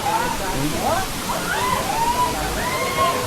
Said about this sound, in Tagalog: At nakarating din sa mismong falls.